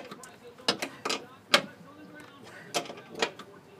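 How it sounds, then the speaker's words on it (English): A blind bolt on a pinewood derby build is cranked tight, giving a few sharp metallic clicks and ratcheting scrapes spaced irregularly, close and moderately loud, with faint speech underneath. "Yep, you know the bolt's starting to turn."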